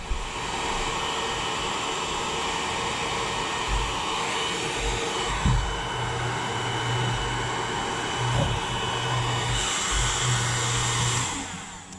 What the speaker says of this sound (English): we now have to use the hair dryer to melt this glue holding the globe to the base